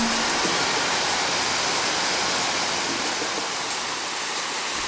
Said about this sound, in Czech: Z levé strany řeky přitéká zurčící neuvěřitelně čistý potok.